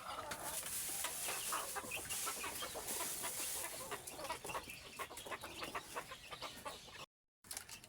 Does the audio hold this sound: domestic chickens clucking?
yes